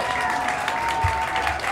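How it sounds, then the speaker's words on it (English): Healthcare workers at UMC in Las Vegas break into dense, continuous applause and cheering as First Lady Dr. Jill Biden arrives, a loud, sustained wash of clapping with scattered shouts throughout. "Cheers from the crowd of healthcare heroes as First Lady Dr. Jill Biden arrives to UMC"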